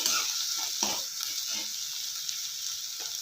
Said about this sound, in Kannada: ಇವಾಗ ಹಸಿಮೆಣಸಿನಕಾಯಿ ಹಾಕೊಳ್ಳೋಣ, ಕಟ್ ಮಾಡಿಟ್ಕೊಂಡಿರೋ. ಚೆನ್ನಾಗಿ ಮಿಕ್ಸ್ ಮಾಡ್ಕೊಳ್ಳೋಣ.